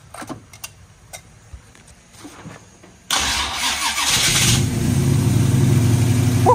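An Oldsmobile engine with a freshly installed top end cranks up after a few faint clicks and clatters, catching abruptly and settling into a loud, rough, steady idle close by.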